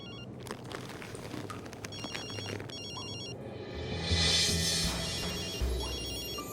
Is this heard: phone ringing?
yes